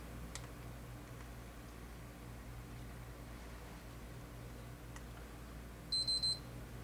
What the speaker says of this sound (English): Beeps 3 times and it restarts to the XMB screen